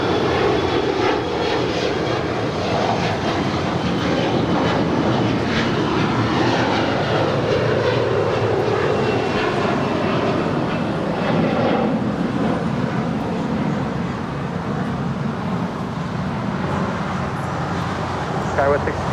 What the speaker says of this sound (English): It's an A330 now pushing back. Zippy now rolling, zipping on down